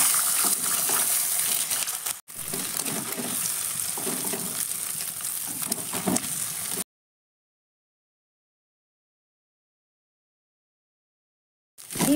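Egg frying in oil in a pan for egg bhujia, a loud, dense, continuous sizzle close up that briefly dips, then cuts to silence before sizzling returns at the very end.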